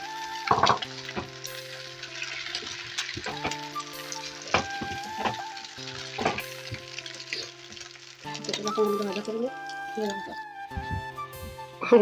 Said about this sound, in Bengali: তো চলো এখন ডিম ভাজাটা করে